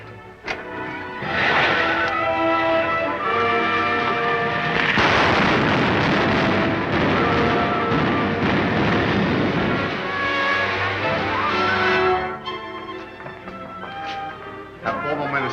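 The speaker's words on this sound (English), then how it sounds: "Fire the starting rockets, Wilma." Starting rockets of a rocket ship firing in a 1939 Buck Rogers serial, a loud continuous roaring blast that swells, holds for about ten seconds and then fades under a musical score.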